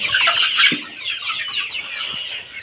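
Two-month-old chickens cluck and chatter together up close, a dense flurry of overlapping bird calls running continuously, loud and without speech.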